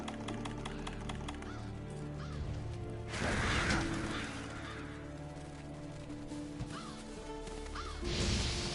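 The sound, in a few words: black scavenger birds cawing in Monster Hunter World video game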